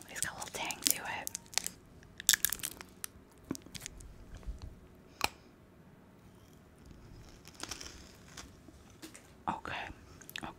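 Close, crisp crunching and biting on a sour, sticky 90s hard candy, irregular bursts of crackly chewing with quiet pauses between them, heard very near the mouth.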